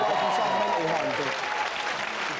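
A television studio audience applauds in a steady wash of clapping while a voice speaks over it.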